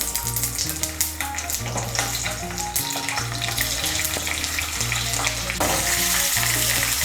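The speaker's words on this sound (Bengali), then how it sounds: "আঁচটাকে বাড়িয়ে আমি ফুলকপিটাকে ভেজে নিচ্ছি।" Cauliflower florets fry in hot oil in a kadai with a loud, dense crackling sizzle close by, and a steady low hum runs beneath it throughout.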